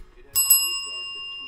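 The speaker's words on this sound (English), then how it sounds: "Where's my bell? It's over here." A small handheld bell is struck during a sports trading card break, giving two quick bright dings that then ring out with a clear sustained tone, close and alone.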